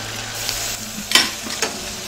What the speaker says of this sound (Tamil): இப்ப எண்ணெய் காஞ்சிருச்சு வெங்காயத்தை நல்லா வதக்கிடலாம்